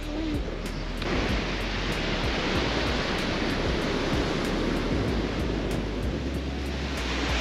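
Strong wind roars continuously at the Polish seaside in Władysławowo, a dense, rumbling buffet that may carry the wash of the sea, with no voices.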